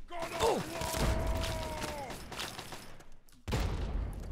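Grenade explosions in Fallout 3 on Very Hard difficulty: a burst of gunfire-like blasts and thuds with a ringing tone, then a sudden dropout and another rumbling hit, all fairly close and loud.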